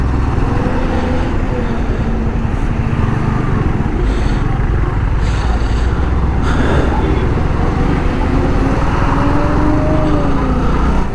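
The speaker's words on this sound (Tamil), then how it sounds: "Traffic jam pole." Road traffic crawls in a jam near a toll booth, a steady dense rumble of engines and motorbikes with occasional passing whooshes and faint horn tones.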